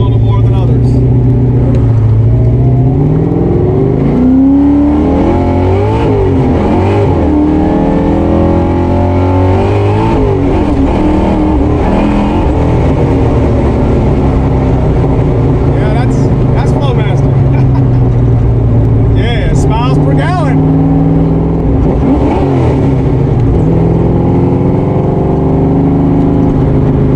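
A car's exhaust fitted with a Flowmaster muffler revs hard and loud, rising and falling in repeated throaty bursts close by for the whole stretch, with people talking over it.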